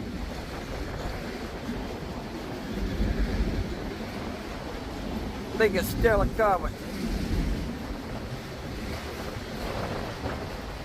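Outdoor wind buffets the microphone beside a CSX railway line, a rumbling low roar with gusty swells, while someone speaks briefly partway through.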